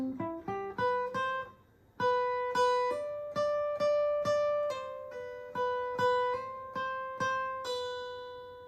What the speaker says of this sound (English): It's going to be a lot of hammer-ons and pull-offs.